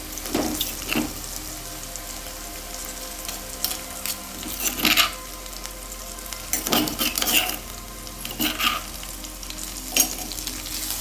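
Crushed ginger is stirred in a hot frying pan, a continuous sizzle broken by repeated scraping strokes of a spoon against the metal, close and alone with no talk.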